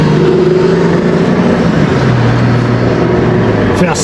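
A small car engine revs steadily and loudly at close range at a car wash, a low droning tone holding throughout with a slight pitch drop midway, and no voices over it.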